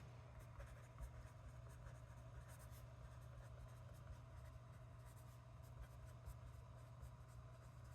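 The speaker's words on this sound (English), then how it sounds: "Okay, I'm gonna write this real quick." A pen writes on paper in a quiet ASMR setting, making faint continuous soft scratching strokes over a low steady hum, with no talking.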